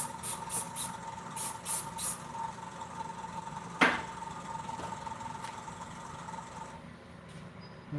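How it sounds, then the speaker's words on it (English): CA glue accelerator sprays from a can onto a craft piece in a few short, soft bursts, then a long, steady hiss continues alone with no talking. "I normally wouldn't spray it with CA with an accelerator right now, but I did"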